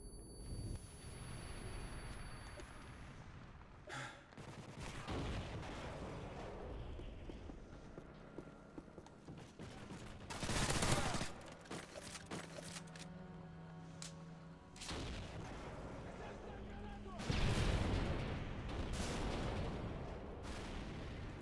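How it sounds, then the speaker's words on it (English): Explosions and gunfire in Modern Warfare 3 on Xbox 360 come as scattered shots and booms, with two louder blasts standing out over a busy game background, no talk. "those explosions can chill out now"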